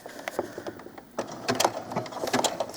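A sewing machine stitches a doll shirt sleeve in short bursts, with quick mechanical ticks and whirs that stop and start, close and fairly loud.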